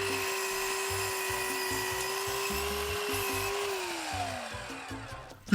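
Power saw cutting timber for a wooden wall frame plate while building gable framing, a steady whining motor with a rhythmic grinding cut whose pitch drops toward the end as it bogs down.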